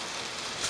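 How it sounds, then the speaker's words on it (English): Rain begins falling outside, a brief dense hiss of drops on surfaces, steady and moderately loud throughout. "Dude, it just started raining!"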